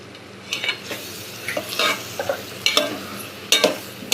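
A spoon stirs broad beans and tomato curry with chili powder in a pan, scraping in short irregular strokes over a faint background sizzle.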